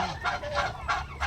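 Turkey hens in a pen give a few short, rhythmic clucks close by, quiet and without talk.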